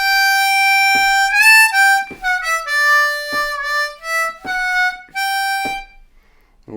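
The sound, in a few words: blues harmonica lick on C harmonica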